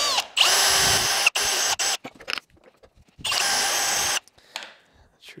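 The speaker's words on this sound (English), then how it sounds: "And then just ream that out." Power drill whines in short bursts while reaming out holes in a steel plane blade for marking knives, stopping and starting several times with close, loud spin-ups and quiet gaps between.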